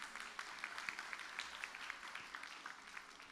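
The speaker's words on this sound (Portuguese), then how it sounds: "uma salva de palmas para ela." Faint applause for a student from a church audience, many hands clapping steadily for a few seconds at a distance.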